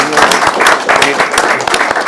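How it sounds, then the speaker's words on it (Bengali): An audience at a public address by Bangladesh's Chief Adviser claps loudly and densely, a close, continuous burst of applause with a voice carrying over it. "একদম জোরে একটা হাততালি দিয়ে সবার জন্য"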